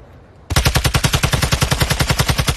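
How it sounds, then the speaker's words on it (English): A rapid burst of automatic gunfire in Call of Duty Warzone 2.0 starts abruptly after a quiet moment and runs as an even, loud string of about twenty shots. "Shots."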